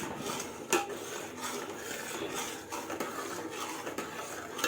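A spoon scrapes and clinks against a pot again and again while wheat starch batter is stirred nonstop during traditional papad making, with irregular rubbing strokes and occasional sharper knocks, close and moderately loud without speech.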